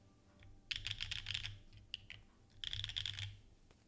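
Typing on a green Geon F1-8X V2 mechanical keyboard, two close bursts of rapid crisp key clicks separated by a short pause with a few isolated keystrokes.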